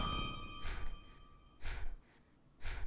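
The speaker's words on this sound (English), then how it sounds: "Breathing noises." Breathing sounds from the video game Iji come in three slow, evenly spaced breaths, soft and close, over a faint electronic hum.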